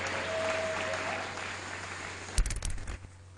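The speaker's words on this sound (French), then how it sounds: "Est-ce qu'on peut acclamer très fort le roi de rois?" A church congregation bursts into a short round of loud applause, the clapping swelling for about half a second before tapering off to quiet.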